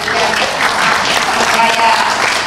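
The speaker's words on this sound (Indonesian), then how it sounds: "Tepuk tangannya." A political rally crowd claps and cheers loudly and continuously in a dense, close-miked wash of applause with some crowd noise mixed in.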